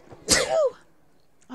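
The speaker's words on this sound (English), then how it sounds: "I've just sneezed." A single sharp human sneeze, close and loud, a quick burst followed by a brief voiced tail and then quiet.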